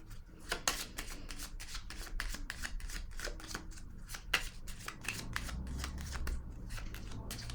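Tarot-style cards handled and laid down one after another during a card reading, a steady run of soft papery slaps and shuffling rubs at close range with no talk.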